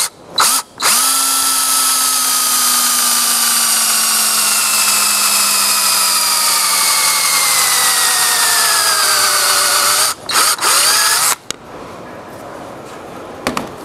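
Power drill spinning a 3/8 inch tenon cutter on the end of a chair spindle for a bow back Windsor chair, one long steady whine that slowly drops in pitch under load, framed by short bursts of starting and stopping.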